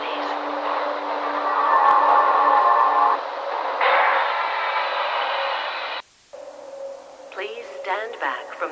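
Tram train in Half-Life rolling into a station, a loud sustained rumble and metallic screech that cuts off abruptly, followed by a processed announcement voice speaking over quieter background hum.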